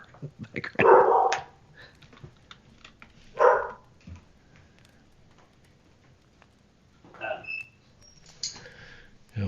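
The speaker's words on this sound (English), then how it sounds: "I've got a crazy dog in the background." An excitable dog barking in the background of a live conversation, a couple of loud bursts early on and a few more later, separated by quieter gaps.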